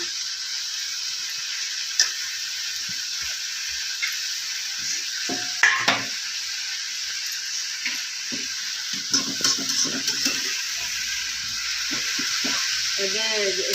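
Fenugreek greens frying and being stirred in a pan in a home kitchen, a steady sizzle with occasional scraping and clinks of a utensil against the pan; faint voices talk briefly in the background.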